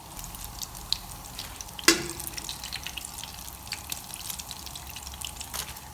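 Beer-battered Spanish mackerel fish burgers fry in a pan, a steady soft sizzle with bubbling and one sharp clink of a utensil partway through.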